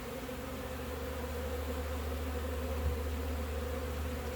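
A close, continuous drone of many buzzing honey bees at a hive, steady and full, with no talking.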